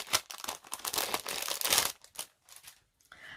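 Crinkly plastic packaging rustles and crumples as a roll of thick foam tape from a card kit is handled, close and uneven, in bursts with brief pauses.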